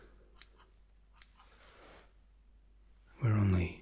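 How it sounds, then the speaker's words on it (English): Barber's scissors cut dry hair in a few crisp, close snips, with soft breathy texture between them and a brief spoken voice at the end. "I don't usually cut dry hair"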